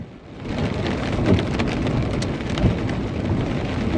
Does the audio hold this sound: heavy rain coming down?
yes